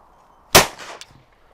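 A single sharp .410 shotgun blast cracks out at a clay target, loud and close, followed by a short decaying echo and a faint metallic clink.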